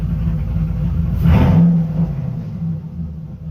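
A Ford Mustang rolls forward with a low engine rumble, a brief surge of loose rattling and clatter rising in the middle before settling back to the steady drone.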